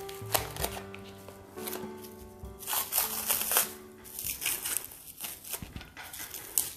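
Saran wrap and masking tape pulled off new Sergey Belov wood carving knives, close crinkling and tearing bursts of plastic film over soft background music, uneven and intermittent.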